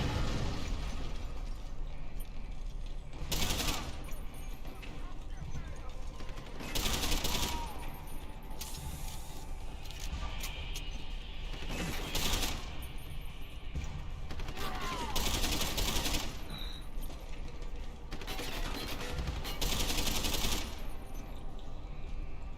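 Player's weapon fires in Deus Ex: Human Revolution, repeated bursts of gunshots at intervals over a steady game background, with talk heard between bursts.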